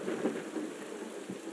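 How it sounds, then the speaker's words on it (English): Thunder and rain from a video game make a soft, continuous rumble with steady patter, fairly faint and with no voices over it. "I love the sound of the thunder"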